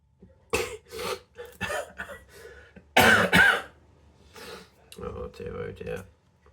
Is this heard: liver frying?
no